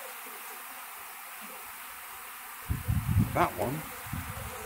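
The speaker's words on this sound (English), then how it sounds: "they're fanning. I think there's two distinct swarms here." Two distinct swarms of honey bees fanning give a steady, droning buzz throughout, with someone speaking briefly close by over the hum in the latter half.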